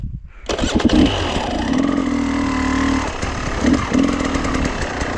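An enduro motorcycle engine revs steadily during a slow pivot turn, rising to a sustained loud drone with brief throttle swells near and close, no talk.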